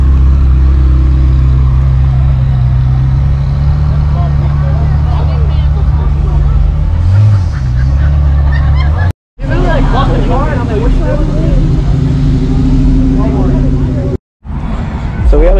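Cars arriving and idling at an evening car meet in Jacksonville, engine rumble and road noise steady throughout with a crowd's chatter and voices over it, briefly cut twice.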